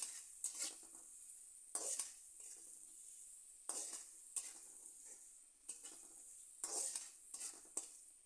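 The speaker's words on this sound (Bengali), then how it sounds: "এবার লবণ হলুদ দিয়ে পেঁয়াজ ভালো করে কিছুক্ষণ ভেজে নেব।" Chopped onions fry in a pan with salt and turmeric, a steady bright sizzle broken by repeated scraping stirs of a spatula against the pan, close up with no talk.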